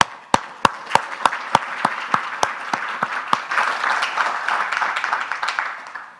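Applause at an international aviation flight safety seminar: a few sharp, evenly spaced close claps lead in, then a fuller round of audience clapping swells and continues steadily to the end.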